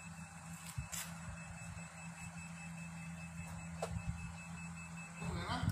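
A washing machine under repair for an H21 fault runs its drum during a test, making a steady low mechanical hum with a constant tone, faint occasional clicks and light background rustle.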